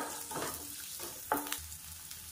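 Steady frying sizzle of onion sautéing in hot oil in a pan, with a few brief stirring clatters and scrapes, close and moderately loud.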